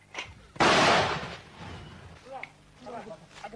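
An artillery gun fires one loud, close boom that decays over about a second, with a voice talking before and after the shot.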